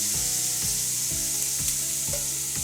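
Butternut squash frying in a hot pan for a chicken curry, a steady loud sizzle with repeated scraping stirs of a utensil against the pan, no voices.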